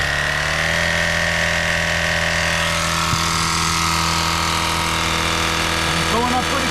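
A Lasfit Air Master dual-cylinder portable air pump runs steadily while inflating a tire, a loud, close, even motor drone with a constant hum that holds throughout, with a faint click midway and no speech.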